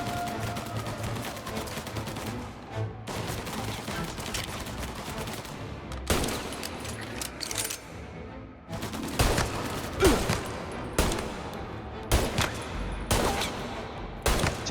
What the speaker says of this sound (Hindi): अरे टॉमी गन चला रहे क्या वो ऊपर से?